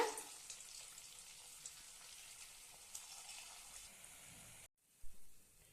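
Potato crispy snacks deep-fry one by one in hot oil over a low flame, a soft, steady sizzle with small pops that cuts off abruptly near the end.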